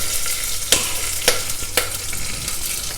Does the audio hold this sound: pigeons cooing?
no